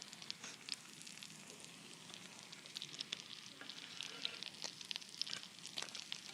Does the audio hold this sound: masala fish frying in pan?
yes